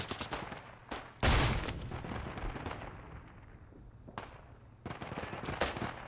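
Rifle and machine-gun fire rings out in the World War I game Isonzo, set in mountain warfare. A loud shot with echo leads into scattered distant cracks and rattling bursts.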